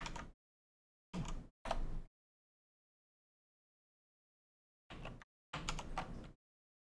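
Keyboard keys clatter in short bursts of fast typing at a computer, with long silent pauses between the runs.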